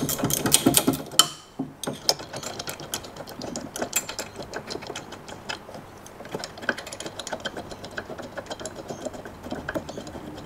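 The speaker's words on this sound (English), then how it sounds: "we're going to remove the bolts out of the inside brake carrier" Bolts are worked loose from the inside brake carrier of a Tony Kart with a ratchet tool, making quick close clicking and metallic rattling in irregular bursts, with no talk.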